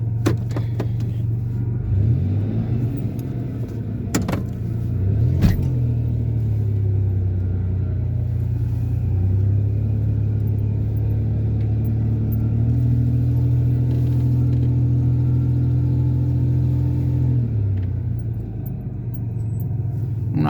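Car driving slowly through a nearly empty car park at night, a low steady engine drone with gentle rises and dips in revs, close and continuous with no talking.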